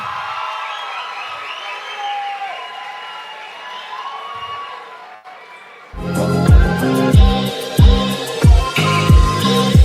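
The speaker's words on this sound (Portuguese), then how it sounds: "Um forte aplauso." A conference audience bursts into applause and cheering after quiet talk, with loud rhythmic clapping and crowd noise filling the second half.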